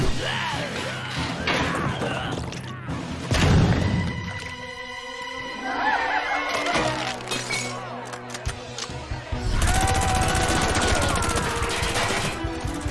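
Machine gun fire from an animated show crackles in rapid bursts, mixed with shattering crashes, yells and cartoon sound effects, loud and busy with brief music-like tones between volleys.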